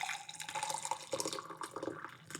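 Warm water is poured into a glass, a faint, continuous splashing and trickling with fluttering drips, quiet and close, with no talking.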